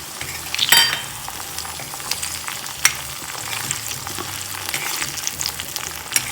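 Golden garlic cloves and green chilies sautéing in a pan, an even crackling sizzle with occasional louder spits and utensil clinks, close and steady.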